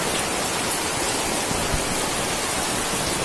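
Heavy rain pours down in a steady, dense broadband roar outdoors near a flooded rabbit nest where cardboard is getting soaked, loud and unbroken with no talking.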